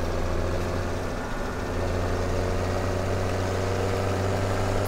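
Tractor engine in the video game Farming Simulator 2017, a steady low idling drone with a constant hum that runs unbroken and fairly loud throughout, with no talk.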